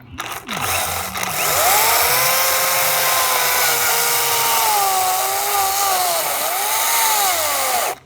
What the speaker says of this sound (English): I'll grab this chainsaw. Okay, it's very underpowered